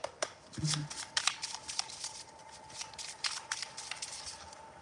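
Tarot cards shuffled and pulled during a live reading, crisp close riffling and slapping bursts in several quick runs, with a faint voice in the background.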